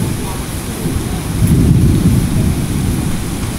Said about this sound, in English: That's thunder.